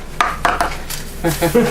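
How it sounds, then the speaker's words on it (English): Rubbery snaps and rustles of gloves being pulled onto hands, several quick sharp bursts in close succession, up close and fairly loud. "what you're hearing is my gloves. I'm putting on my gloves."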